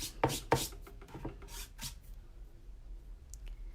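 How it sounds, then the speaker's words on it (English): A squeegee drags Chalkology chalk paste across a silkscreen in a few short, scraping swipes, sharp at first and then softer, fading into quiet room noise. "I'm just going to take my squeegee"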